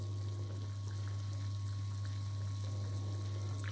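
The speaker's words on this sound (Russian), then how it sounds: "теперь мы опускаем нашу ложечку в кипящую воду и ждем" A bamboo spoon sits in a pot of boiling water on a kitchen stove. The result is a steady, faint bubbling and watery churn over a constant low hum, with no voices.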